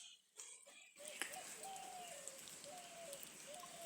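A pigeon cooing close by in a rural backyard with chickens and ducks, several soft repeated coos over a faint outdoor hiss, preceded by a few brief muffled knocks.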